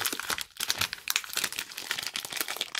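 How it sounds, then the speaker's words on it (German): A plastic wrapper on a Cadbury Bubbly Oreo chocolate bar crinkles and crackles continuously while being pulled and torn open, close and busy, with no voices. "ich will jetzt nicht hier gleich die ganze Tüte zerreißen. Leute, warum geht das nicht auf?"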